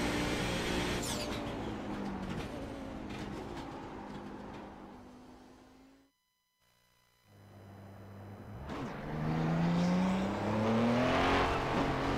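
An Audi race car lapping the Belle Isle street circuit in Detroit, its engine loud and close, rising and falling through the gears, cutting out briefly to near silence, then revving back up hard.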